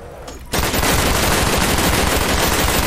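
A machine gun fires in sustained, rapid bursts in Call of Duty: Black Ops zombies. The loud, continuous gunfire breaks in abruptly after a brief quieter moment.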